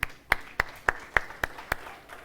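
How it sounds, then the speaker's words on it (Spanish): Clapping during a church service comes as seven even, sharp claps in a steady rhythm, fairly faint and with nothing else around them. "Dele un aplauso a..."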